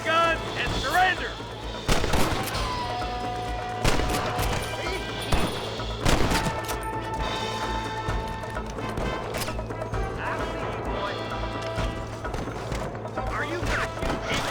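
Gunfire in a Red Dead Redemption Western shootout with rustlers: repeated sharp shots ring out at irregular intervals over a busy game soundscape with music and scattered voices.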